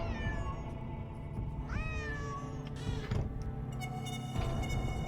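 A cat meows repeatedly in a Nancy Drew adventure game, several drawn-out rising and falling calls close up over a faint background hum.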